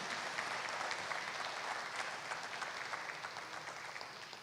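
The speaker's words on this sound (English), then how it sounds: "Let's give both candidates a round of applause" A debate audience applauds both candidates at a candidates forum, giving a fairly quiet, even stretch of clapping that slowly fades toward the end.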